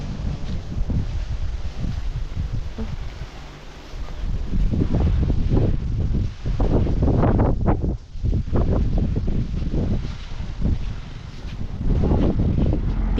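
Wind gusting outdoors during a Thai home cooking session of bamboo shoot soup and pork larb, a steady loud rush with rustling, swelling and dipping in broad gusts throughout.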